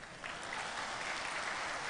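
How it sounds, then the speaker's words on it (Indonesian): Audience applause in a hall during a talk by a priest, starting softly and swelling to a steady, fairly distant clapping. "Tepuk tangan."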